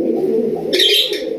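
Pigeon cooing close by at a pigeon sale, a low continuous throaty coo, briefly joined by a sharper high chirp near the end.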